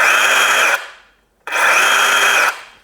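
A DeWalt 20V XR cordless drill runs in two bursts, each a loud, even high-pitched whir of under a second that cuts off quickly, with a short silent gap between them.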